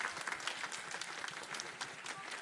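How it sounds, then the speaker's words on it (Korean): An audience in a worship concert hall bursts into sustained applause, dense overlapping claps heard at moderate distance for the whole stretch. "하나님께 영광의 박수를 올려드리겠습니다"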